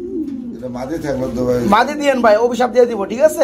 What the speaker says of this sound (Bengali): একটা একটা সিঙ্গেল কবুতর দেখতে পাচ্ছি, ডাকাডাকি করতেছে ভাই